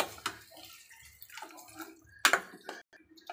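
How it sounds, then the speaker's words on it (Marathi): Water is poured into a cooking pot of pumpkin curry, a few quiet splashing pours with brief gurgles and drips, close and fairly faint. "त्याच्यामध्ये आपण थोडंसं पाणी ऍड करूया म्हणजे शिजायला"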